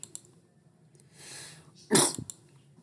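A single sharp sneeze bursts out after a short intake of breath, close and fairly loud against near silence.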